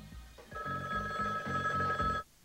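A telephone bell rings in short repeated bursts, a bright, loud electric trill pulsing about five times before stopping abruptly, with no voices over it.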